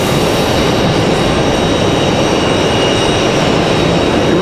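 A Delta jet airliner at Raleigh-Durham airport roars loud and close in a steady, broad engine wash that holds without letup and carries a faint high whine.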